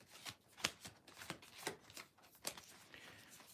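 Soft papery slides and flicks of a tarot card being drawn from the deck, several quiet scrapes and snaps spaced irregularly, close to the microphone with no talking.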